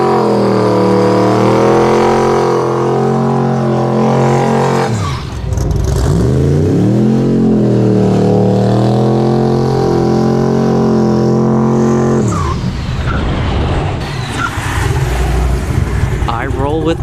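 A quarter-mile drag race between a gutted Tesla Model S Plaid and a twin-76mm-turbo 6.0L LS Firebird brings loud, rising engine roars, with a sharp drop around mid-run and a second surge and pass near the end.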